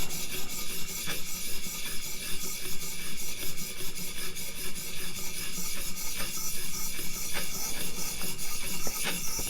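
Continuous rasping and grinding as a Hinderer Firetac knife blade is worked on a 400-grit sharpener, with steady back-and-forth strokes, close and loud, no talking.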